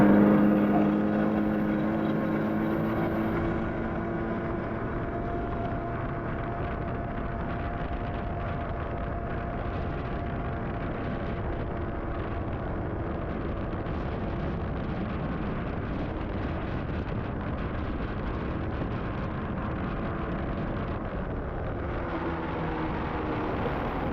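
A 1985 Honda Odyssey FL350R buggy's 350 cc engine holds full throttle, a loud, steady, continuous drone that barely varies in pitch across the whole stretch, with no talk over it.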